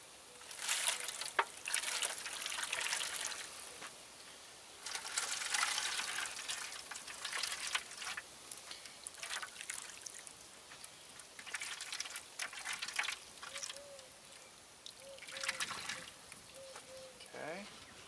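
Drippings from smoked pork butts, cooked over mesquite and almond wood, sizzle and crackle in a steady, close hiss with irregular pops, joined near the end by faint murmured voices.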